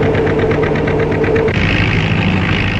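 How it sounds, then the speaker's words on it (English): An oil-burning engine runs steadily while plowing soil, giving a continuous mid-pitched rumble with a faint knocking pulse. It stays loud and even throughout, with no voices. "The oil consumed in this engine produces heat, which in turn does work by plowing this soil."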